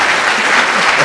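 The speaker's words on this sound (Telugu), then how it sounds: "మళ్ళీ క్లాప్స్." Dense, loud clapping from a television comedy show audience, continuous and close throughout the brief moment with no voices over it.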